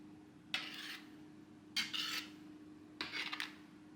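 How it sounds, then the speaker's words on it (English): A spoon stirs Hungarian beef goulash in a metal pot, three separate scraping bursts each lasting about half a second, close and fairly quiet over a steady low hum. "And then you have to stir quickly and make it boil again."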